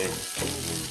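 Pulled pork with vegetables, pepper and soju being stirred and shredded with a spatula in a pan, giving a short, close sizzle and frying crackle.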